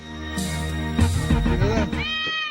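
A cat meows several times in quick succession, loud and close, with drawn-out, rising and falling cries ending in a higher wail.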